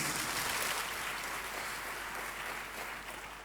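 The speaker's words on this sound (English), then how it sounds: "A round of applause for our keynote speakers." A round of applause for the keynote speakers at a church conference Q&A session, a steady wash of clapping from an audience, fairly faint and gradually tapering.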